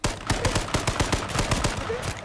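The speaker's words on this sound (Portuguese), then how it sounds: "tô tomando tiro aqui na nossa frente" Gunfire in the video game H1Z1: a rapid burst of roughly a dozen sharp shots in quick, slightly uneven succession, close and loud, with no talking over it.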